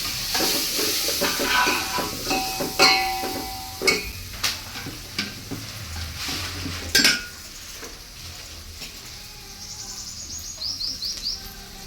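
Half a kilo of tomatoes frying in a pan for vegetable biryani, with a steady sizzle broken by repeated scraping stirs and sharp clinks of a metal utensil against the pan.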